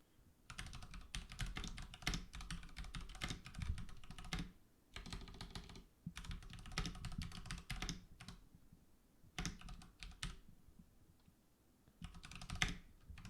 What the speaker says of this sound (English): I gotta type in the title.